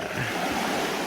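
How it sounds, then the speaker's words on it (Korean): Sea waves surge into a coastal cave in a national park, giving a steady, close rushing wash of surf with a low rumble and some wind, no voices. "이 동굴에 파도가 들어가면서 음악 소리가 들리거든요"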